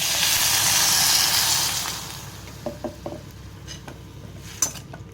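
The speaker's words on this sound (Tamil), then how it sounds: "கல் உப்பு போட்டுட்டு தண்ணி ஊற்றிக்கலாம்." Water is poured into a pan of lightly sautéed onions with curry leaves and rock salt, giving a loud hissing sizzle that fades after two seconds into soft crackles and a few light clinks of a utensil.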